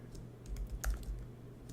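Computer keyboard typing while coding in R, a quick irregular run of close, light key clicks over a quiet background with no talk.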